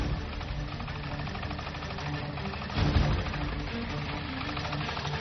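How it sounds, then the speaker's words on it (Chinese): A 22-horsepower articulated tractor with large front tyres drives into a competition arena, its engine chugging in a steady, rapid rhythm with a brief louder thump midway. "这台只有22马力的拖拉机扭动着身躯开进场地"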